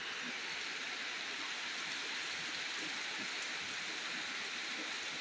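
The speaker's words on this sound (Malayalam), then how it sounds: "നല്ല മഴയാണ്" Heavy rain pours steadily on the Kerala coast, a dense, even hiss of falling water at moderate distance with no voices.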